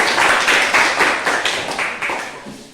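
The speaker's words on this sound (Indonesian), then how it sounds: "Berikan aplaus untuk kelompok" Clapping from an audience for a student group's presentation, a small crowd applauding in quick, fairly close claps that fade over a few seconds with no voices.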